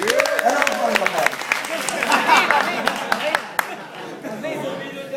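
Applause with scattered claps rises among a lively group with overlapping chatter, then thins out toward the end.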